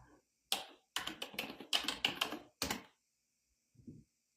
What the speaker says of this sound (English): My loudest keyboard.